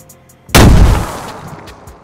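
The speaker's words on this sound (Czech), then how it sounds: "Zřejmě ty výbuchy v té hře DayZ fungují, jak se jim chce." A grenade explosion in DayZ, set off beside a metal base wall: one sudden loud close boom with a crackling blast that decays into a rumbling tail over about a second and a half.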